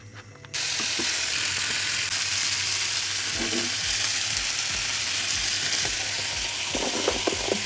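Meat reheating in a pan, a continuous close sizzle starting abruptly and running steadily, with a low mechanical hum beneath and occasional scraping clicks.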